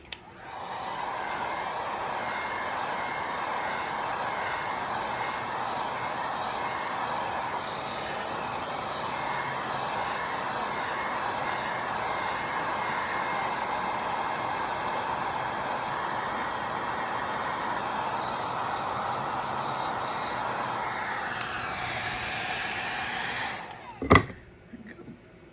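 A dryer blowing over glued paper ornament pieces, a steady loud whooshing rush of air with a motor whine running continuously for about twenty seconds before cutting off, followed by a sharp click.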